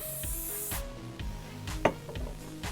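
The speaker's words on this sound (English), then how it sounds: "use a little bit of holding spray just to keep these hairs in the" Hair holding spray is sprayed in a single short burst at close range while styling a braided bang, with quiet handling sounds around it.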